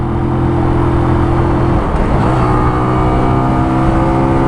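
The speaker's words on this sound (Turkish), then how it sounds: "Vites 2'ye aldık. Bak de nasıl koparıyor görüyor musun? 9000 devire kadar çıktık." A Kuba Superlight 125 motorcycle, still being broken in, revs in second gear on a highway up to about 9000 rpm. The loud, continuous engine whine is close and heard alone, with no talking.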